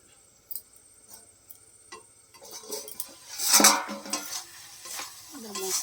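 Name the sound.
frying spices in oil for fish curry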